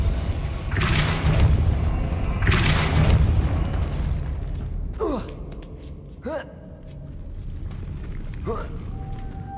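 Spell-casting effects from the video game Hogwarts Legacy come through as several sharp whooshing bursts and booming impacts, each followed by a fading sweep, spaced a second or two apart over a low game rumble.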